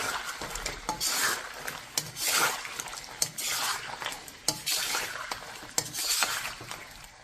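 Mutton karahi cooking in a pan and stirred with a metal utensil: repeated scraping and clinking strokes over a soft sizzle, close and fairly loud, with no voices.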